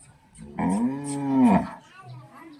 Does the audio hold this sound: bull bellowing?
yes